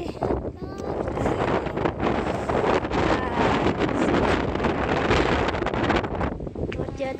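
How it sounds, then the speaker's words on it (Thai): Strong morning wind roars against the microphone during a walk to school beside a busy road, a loud, continuous blustery rush that swells and stays dense throughout, with some talking in it. "ได้ยินเสียงลมไหมคะ"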